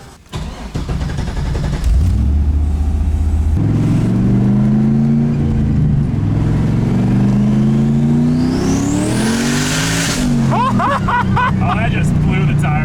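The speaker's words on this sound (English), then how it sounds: "Oh, I just blew the tires off." Nissan Cefiro with a K-series engine swap revving hard and spinning its tires, loud and close, the engine note rising and falling before a high screech of wheelspin.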